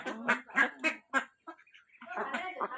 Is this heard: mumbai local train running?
no